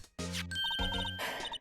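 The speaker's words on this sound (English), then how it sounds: "Here's a phone. Let's see if it works." An electronic telephone rings in the Phoenix Wright: Ace Attorney courtroom adventure game, a short tonal chiming burst repeating quickly over game music, loud and close.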